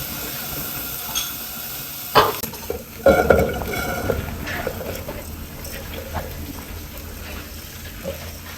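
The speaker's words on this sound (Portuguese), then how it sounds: "Colocar um pouquinho de alho pra refogar o arroz." Rice sizzles as it sautés with garlic in olive oil in a pot, a steady frying hiss broken by a few sharp scrapes of stirring, close and with no speech.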